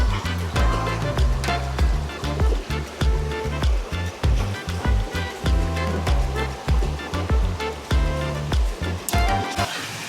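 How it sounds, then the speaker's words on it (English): A waterfall by a river fills the scene with a continuous rushing roar of falling water, close and loud, broken by uneven knocks and thumps in the foreground. "There's a waterfall coming down."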